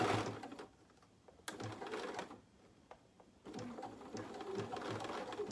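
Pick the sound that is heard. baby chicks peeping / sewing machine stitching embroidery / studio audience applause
sewing machine stitching embroidery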